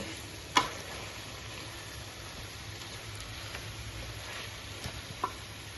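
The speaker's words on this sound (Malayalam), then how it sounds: "അങ്ങനെ നമ്മുടെ ബീഫ് ഫ്രൈ റെഡിയായേ" Beef fry cooking in a pan gives a faint, steady crackling sizzle, with a couple of soft utensil taps against the pan.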